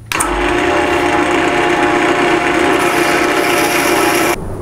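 An acrylic pen blank spins on a lathe at its lowest speed. A loud, steady motor hum mixes with a rasping cut, then drops off abruptly near the end.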